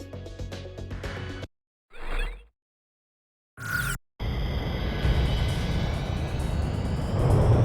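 A jet in the Ace Combat 6 game spools up and roars into takeoff, a steady broad engine rush building in loudness after brief clipped bursts and gaps, with music heard at the start.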